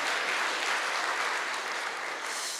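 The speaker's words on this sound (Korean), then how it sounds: "우리 하나님께 영광의 박수 올려드립니다" Church congregation applauding during a Sunday sermon, a full, sustained round of clapping that holds steady throughout without talk over it.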